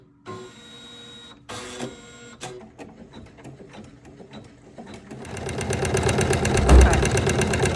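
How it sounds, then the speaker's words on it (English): A Janome 500e embroidery machine stitches the outside of a fabric bowl, starting with separate bursts of fast mechanical chatter and building into loud, continuous rapid stitching close by, with a brief thump near the end. "what it's doing right now is actually embroidering the outside of my bowl"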